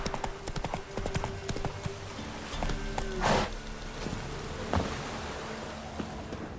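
Roach, Geralt's horse in The Witcher 3, gallops with steady rapid hoof clip-clops over ground, fairly close, with faint ambient game sounds around.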